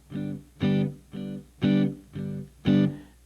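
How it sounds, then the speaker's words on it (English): Jazz bar chords strummed on guitar, six short staccato downstrokes in a steady even pulse with alternating accents, each chord clipped off quickly, played alone and fairly quiet. "I'm going to be strumming down 4 times in each measure"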